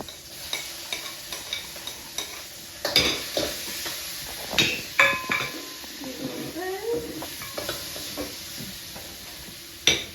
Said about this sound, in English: So now I have 1 more tablespoon of oil. I'm gonna put that into the pan. I'm going to add onions.